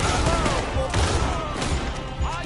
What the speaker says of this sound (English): I'll shoot you fast and kill you